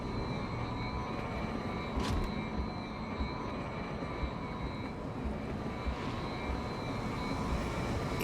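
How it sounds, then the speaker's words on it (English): A large spinning industrial exhaust fan in the Beyond a Steel Sky video game hums in a steady, dense mechanical drone with a constant whirring tone, continuous and unvarying. "industrial fumes pumped out of the spinning exhaust fan"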